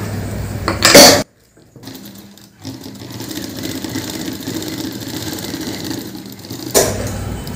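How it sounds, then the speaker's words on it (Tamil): A sewing machine stitching a blouse front runs in steady close bursts, with a brief pause before the stitching resumes and continues evenly to the end. "அப்படியே கிராஸா தைச்சிட்டு வந்துடும்."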